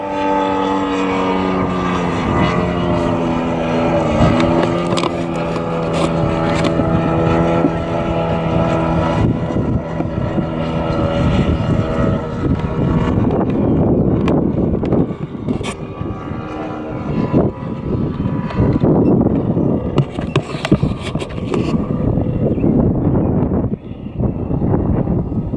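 Loud, steady drone of a large 50% scale Cub model airplane engine, not yet broken in, running at fairly even speed for the whole stretch with slight rises and dips in pitch, close by and with no talk over it.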